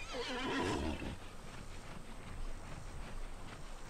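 A horse in the Disney Infinity Lone Ranger game gives a loud, close whinny in the first second, then faint hoof clip-clop and low game ambience continue underneath.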